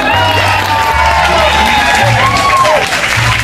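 Audience at a Catrina parade and costume contest applauding and cheering, a steady roar of clapping with scattered whoops and shouts that fills the whole stretch, with a low hum beneath.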